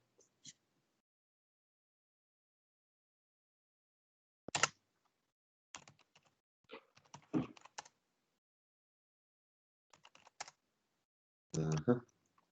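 Bursts of typing on a computer keyboard during a cybersecurity lab session, short runs of quick clicks separated by silent pauses, close and clear with no talk.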